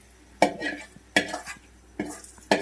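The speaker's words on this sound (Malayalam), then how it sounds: "കറിയിലേക്ക് ചേർത്ത് കുറച്ച് ഗ്രേവി ഒഴിച്ചിട്ട് ഒന്ന് ഇളക്കിലാണ്" A spoon scrapes and clanks in a pot as fried onions and gravy are stirred into mutton head curry, in four distinct strokes at an unhurried rhythm, close and fairly quiet, with a faint sizzle underneath.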